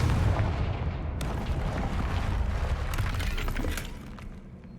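A Confringo spell blast in Hogwarts Legacy erupts as a loud, rumbling explosion with a crackling, shattering burst at the start, then a sustained roar of debris that slowly fades out.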